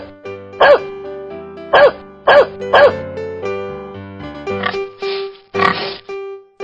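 A dog gives four short, sharp barks in quick succession, then a few softer rough bursts, all over steady background music.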